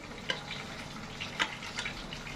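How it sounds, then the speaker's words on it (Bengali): Fish frying in a pan, a steady close sizzle with faint clinks and stirring taps, no voices. "এদিকে আমার মাছটা ভাজা হচ্ছে"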